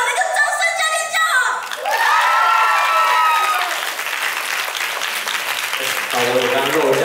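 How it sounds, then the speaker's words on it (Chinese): Loud audience applause with cheering and whoops at a school guitar club concert, rising after a spoken phrase and continuing steadily as voices carry over it. "大家再给他们一个掌声"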